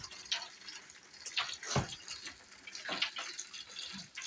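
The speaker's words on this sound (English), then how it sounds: "Remove our thumb from the hose, and then here's all the dirt getting sucked up." Dirty water from a turtle tank is drawn through a siphon hose, heard as a close, uneven gurgling and sucking flow with small splashy bursts, no voices.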